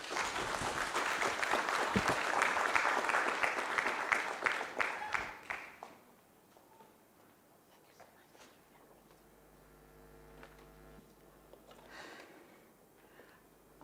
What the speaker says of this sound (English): Another applause to Kondwani.